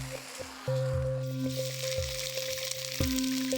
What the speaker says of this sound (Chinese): 鱼腩切块，下锅煎至两面金黄